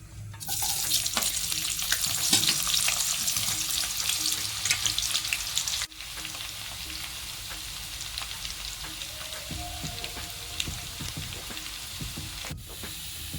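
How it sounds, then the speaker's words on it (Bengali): Onions frying in hot oil in a kadai for crisp beresta, a steady loud sizzle and crackle with occasional stirring, the sizzle dropping slightly halfway through and continuing without any talk. "আর একদিকে আমি একটা কড়াতে তেল বসিয়ে দিয়েছি, তাতে আমি একটা মিডিয়াম সাইজের পেঁয়াজের বেরেস্তা করে নেব।"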